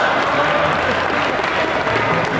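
Applause from a Google I/O 2016 audience voting on an option: dense, steady clapping from a large crowd throughout, loud and close, with no pauses.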